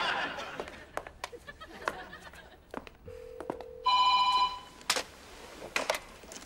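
After someone dials and places a phone call, a ringback tone beeps briefly, then a short electronic telephone ring sounds, amid scattered clicks, soft laughter and background voices.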